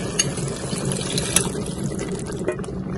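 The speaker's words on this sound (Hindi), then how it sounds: "अब इसमें हम डाल रहे हैं प्याले में थोड़ा सा पानी" Water is poured from a bowl into a cooking pot of aloo matar chawal, a steady liquid splashing and gurgling for several seconds with a few brighter clinks.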